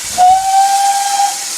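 A steam locomotive whistle from the Flying Scotsman 4479 in a Roblox train game gives one steady, loud, high-pitched blast of about a second, with hissing steam around it.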